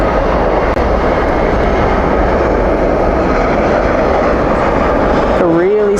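A jet airliner departs from DFW airport at night with a loud, steady roar of engines that holds throughout, and a brief rising tonal whine near the end.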